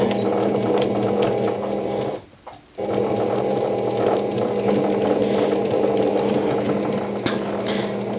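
Sewing machine stitching a straight-line quilt in the ditch, a close, steady mechanical whir that pauses briefly for under a second before resuming at an even pace.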